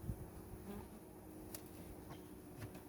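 A steady, dense buzz of many honeybees in a hive fills the clip, close and continuous, with faint handling knocks underneath.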